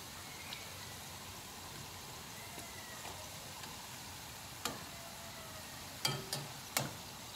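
Tortilla chips frying in a pan give a soft, steady sizzle, with a few sharp pops and crackles near the end.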